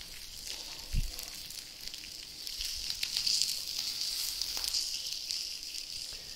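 Steak searing in a pan as its fat renders, a faint steady sizzle with scattered pops and crackles and a small thump near the start.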